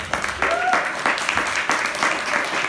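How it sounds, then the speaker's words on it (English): An audience at a film festival opening night breaks into applause, with moderate clapping mixed with a voice and a brief whistle-like tone. "now give her a applaud for that"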